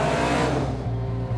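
Big block Ford V8, a 548-inch engine in a forward-engine trophy truck, revving loud and close in a rough, rhythmic burbling idle with sharp pulses.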